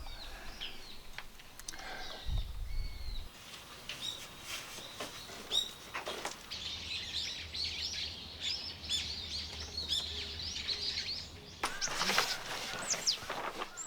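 Birds chirp and call in short, scattered bursts around an old family ancestral shrine at a traditional Korean house, moderately near over a quiet outdoor background, with a brief low thump early on.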